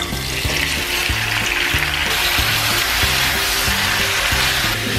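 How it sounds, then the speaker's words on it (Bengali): Onions dropped into hot oil for beef with onions, a loud, continuous frying sizzle with a bright hiss, heard alongside rhythmic background music throughout. "তেল গরম হয়ে গেছে। এখন আমি পেঁয়াজগুলো দিয়ে দিচ্ছি।"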